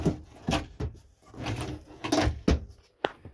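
Drawers inside a 2019 Forest River Work & Play RV are opened and closed, producing a series of close wooden knocks and short sliding thuds at an irregular pace.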